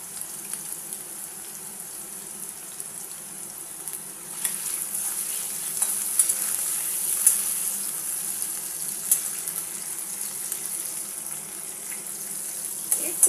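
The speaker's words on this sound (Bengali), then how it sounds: "এবারে আমি আলুটা ভেজে নেবো।" Diced potatoes frying in mustard oil give a soft, steady sizzle that grows slightly busier midway, with faint crackles and occasional light stirring clicks, fairly quiet and close.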